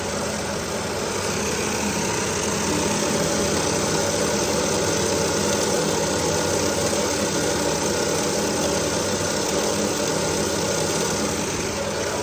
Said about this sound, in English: That's the sender selectors looking for a sender.